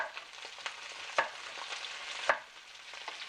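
Vegetables and chillies being stir-fried for noodles sizzle softly in the pan, broken by a few distinct scrapes of a spatula against the metal, with no voices.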